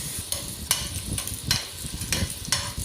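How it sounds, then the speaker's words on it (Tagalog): Onion sautés in cooking oil, with a soft, continuous sizzle broken by several sharp stirring scrapes at roughly even intervals, close and fairly quiet. "Gisa-gisa lang po yan."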